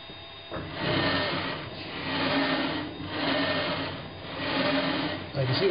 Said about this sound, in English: So I'll start the spindle.